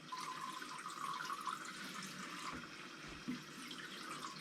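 Tropical water conditioner being poured into an aquarium, a faint steady trickle of liquid splashing into water, quiet and continuous with no talk.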